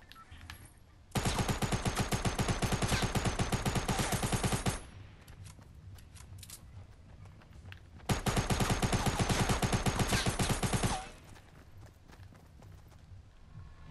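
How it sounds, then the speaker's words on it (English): Rapid automatic gunfire in the video game Fortnite, two long loud bursts of fast repeated shots lasting several seconds each, separated by quieter game ambience, with no talking over them. "I shot that guy like 400 times."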